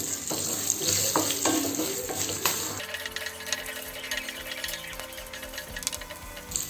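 Green chillies, turmeric and asafoetida sizzle steadily in hot oil on a low flame, a close, continuous crackling fry with faint stirring, no voices.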